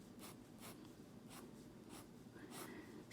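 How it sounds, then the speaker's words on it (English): An ordinary school pencil scratches across paper in quick shading strokes, about five faint bursts in a quiet room. "I'm going to start with just a regular school pencil."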